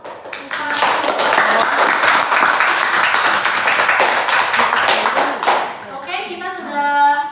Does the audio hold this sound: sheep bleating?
no